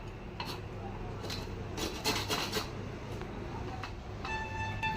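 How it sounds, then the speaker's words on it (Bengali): Lemon rubbed against a grater for zest over layers of chicken and mint: short, scratchy rasping strokes come in uneven bursts, close and fairly soft. "আমি এই যে লেবু ঘষছি।"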